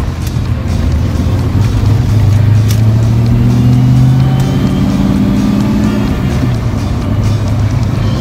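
A silver coupe on its first drive after repairs gives a steady, loud engine drone from inside the cabin, with tone shifts as it rises and falls in revs and no talk over it.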